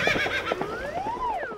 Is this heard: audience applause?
no